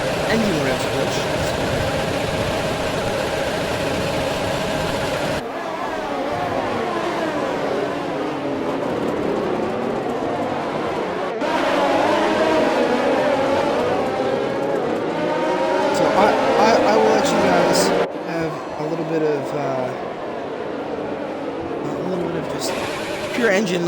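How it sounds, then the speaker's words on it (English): Race cars in a sim racing game roar past. Engines rise and fall as they rev through gears, with abrupt cuts between scenes and a steady loud drone throughout. A voice talks briefly over parts of it. "Pure engine noises for a little while."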